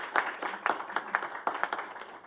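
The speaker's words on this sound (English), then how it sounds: "let's give them a round of applause of thanks" A small audience claps in thanks for student mentors at a pitch competition, a modest scatter of individual hand claps with audible distinct slaps, fairly quiet and brief.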